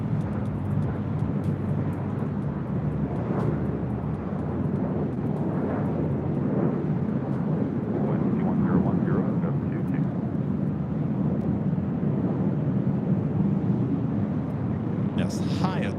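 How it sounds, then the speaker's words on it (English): An Air Japan Boeing 787-8 Dreamliner takes off at LAX toward Tokyo Haneda, a loud continuous rumble with wind buffeting, while a person talks over the engine noise for most of the clip. "It's operated by Air Japan, heading to Tokyo Haneda in the 787-8 Dreamliner."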